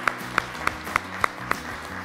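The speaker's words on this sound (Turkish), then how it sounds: "iki gruba da bir alkış geliyor" On a children's game show, a studio audience claps for both teams in a slow, even beat, six sharp claps spaced evenly over a low background hum.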